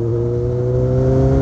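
Kawasaki Z800 motorcycle engine held at a steady half-throttle drone, loud and close, with a constant mechanical whir and no speech.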